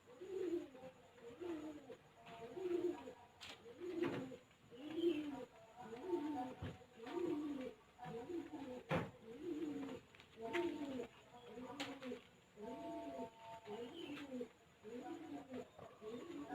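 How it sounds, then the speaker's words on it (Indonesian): Racing pigeons coo in a steady rhythmic series of soft, low, rolling calls close by, with a few scattered clicks and rustles in the background. "Ini yang dipelihara ini merpati balap semua ya guys."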